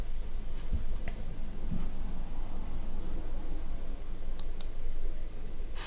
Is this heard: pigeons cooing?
no